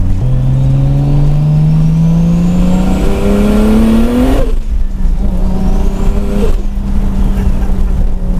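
Tuned 600 hp single-turbo Toyota Supra accelerating hard from inside the cabin, engine note climbing steadily through a gear, a brief dip at the shift, then pulling again, loud and continuous with no talking.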